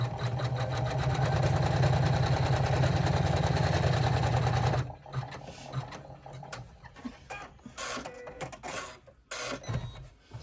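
An embroidery machine stitching a zipper bag clutch, running a steady rapid mechanical hum and needle chatter for about five seconds, then stopping, followed by quieter handling clicks and rustles nearby.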